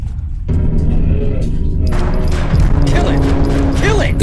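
Gunfire in a hyper-realistic body cam horror game erupts loudly after a brief quiet start, a sustained barrage of rapid shots and thuds continuing throughout, with frantic shouting over it.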